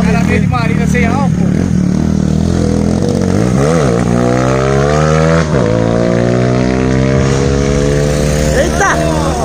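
A Honda Titan 150 fuel-injected motorcycle with a 190 kit, running on ethanol, revs up and down repeatedly in the foreground, its pitch sweeping and settling, with a voice talking over it at times.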